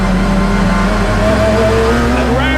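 GT race cars at Spa-Francorchamps pulling away on the formation lap, loud engines revving and rising in pitch as several cars accelerate nearby.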